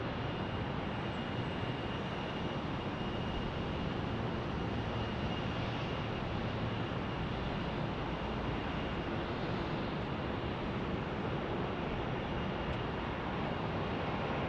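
An American Airlines Airbus A321 from Charlotte gives a dense, unbroken rushing roar at a constant loudness, alone with no talk.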